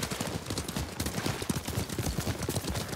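Several horses gallop in the video game Ghost of Tsushima, a dense, rapid clatter of hooves that runs steadily throughout, with no voices over it.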